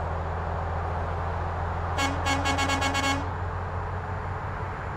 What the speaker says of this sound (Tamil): ஹார்ன் அடிக்கிறோம்